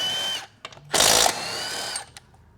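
A power tool, likely an impact driver or drill, works bolts loose on a 6L90E automatic transmission in a shop, with one loud burst of about a third of a second between quieter mechanical clatter and tool whine.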